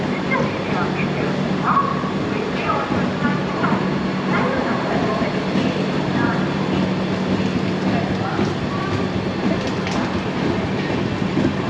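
A 22701 UDAY Express double-decker train runs steadily with a continuous rumbling roar and faint rhythmic rail clatter, heard from inside a carriage with background voices.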